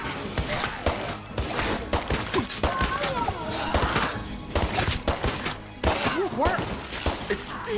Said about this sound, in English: Fucking Felix is the only one shooting.